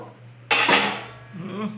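A wok set down on a gas stove while cooking masoor dal at home gives one sudden, loud metallic clatter that quickly settles into a lingering ring and low background hum.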